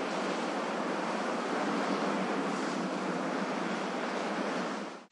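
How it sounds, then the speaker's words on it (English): Steady roar of ocean surf, waves washing continuously with a broad hiss, loud and close, fading out at the very end. "Surf."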